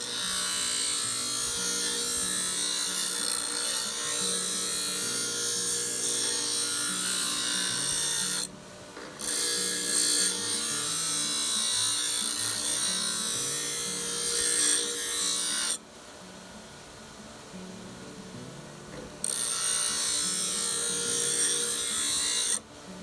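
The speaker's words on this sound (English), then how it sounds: "we're going to be moving it across the face of that grinding stone, just like that." Steady, harsh scraping as the blade of a traditional elbow adze is worked across the face of a grinding stone, continuing at a constant rhythm with two short pauses.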